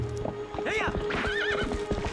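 A horse in Zelda: Twilight Princess gives a loud, quavering neigh over clip-clopping hooves, with a second whinny following close behind.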